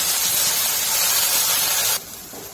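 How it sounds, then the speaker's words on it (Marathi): Okra frying on full flame in a pan gives a loud, steady broadband sizzle that cuts to a quieter hiss near the end, with no voices. "भेंडी अशा पद्धतीने फ्राय करून घ्यायची"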